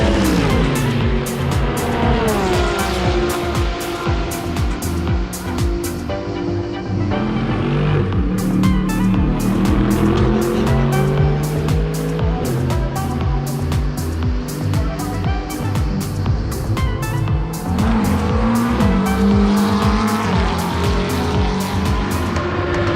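Clio Cup race cars at the Imola circuit: engines roar continuously for over twenty seconds, rising and falling as cars shift gears and pass, with dense overlapping engine noise and rapid gear changes, no talking.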